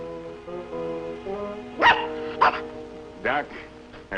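A small dog on a frontier homestead gives a few short yips and barks in the second half, close by and moderately loud, after a voice talks over a quieter stretch.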